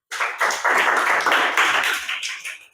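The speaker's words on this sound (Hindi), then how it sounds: "जाओ ताली बजा दो इन दोनों के लिए" Students in a classroom clap together in a quick burst of overlapping handclaps, close and lively, swelling in and then tapering off over nearly three seconds.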